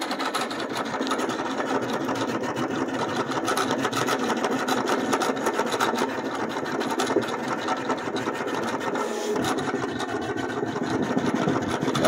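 A vinyl plotter buzzes and rasps steadily as it perf-cuts printed, laminated decals, a continuous whirring hum at close range.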